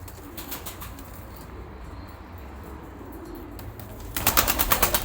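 Pigeons flapping their wings in flight and cooing, a soft low murmur with scattered wing flutters, then a louder burst of rapid wing claps near the end.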